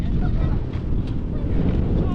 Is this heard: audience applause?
no